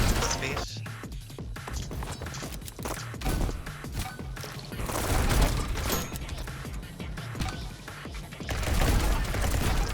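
Rapid gunshots in the Neon White video game as chests are shot while descending, a dense, loud barrage of cracks and smashing impacts running continuously with game music underneath.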